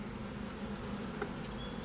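Honeybees buzzing steadily in an opened hive during a frame inspection, a dense low drone heard close and quiet throughout, with no talk.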